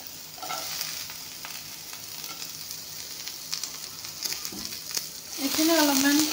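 Onion and garlic fry in a pan of hot oil with bay leaves and spices, giving a close, continuous sizzle with occasional stirring clatter, building louder toward the end, with no voices.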